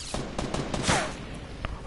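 Rapid gunfire in Fortnite, a quick series of sharp close shots in an uneven rhythm, loud and mostly alone, with one heavier blast near the middle.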